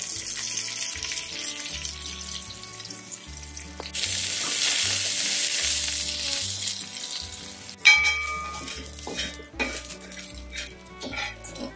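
Mustard seeds and cinnamon tempering in hot oil, a close crackling sizzle rising partway through amid clinks of pots and utensils in a home kitchen.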